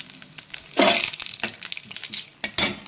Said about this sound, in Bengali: এবার এতে আমি ফোড়ন দেবো, প্রথমে জিরে, তেজপাতা আর একটা শুকনো লঙ্কা